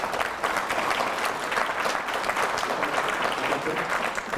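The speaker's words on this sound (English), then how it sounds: "please give a round of applause to the Harbor Hotel." A breakfast audience at a county chamber executive event claps for the Harbor Hotel team, a full, even round of applause sustained throughout.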